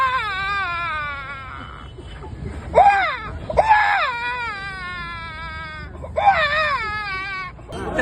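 A man at the Ashadhi Wari pilgrimage imitates a small child crying, giving several wavering, high-pitched wails and whimpers in short bursts with brief pauses, close and clear, with faint crowd noise underneath.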